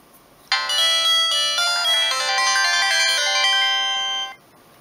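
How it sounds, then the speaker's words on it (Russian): A Samsung C200 mobile phone from 2004 plays its standard power-on melody: a bright electronic chime of stacked tones, about four seconds long, loud and close, then silence. "Стандартная мелодия включения-выключения от Samsung в те годы"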